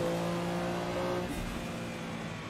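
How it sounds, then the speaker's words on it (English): A Porsche 962 race car engine held at high revs in the Assetto Corsa racing game: a loud, steady, buzzy drone with a slight fall in pitch, constant and without pauses. "Let's over-rev the piss out of that."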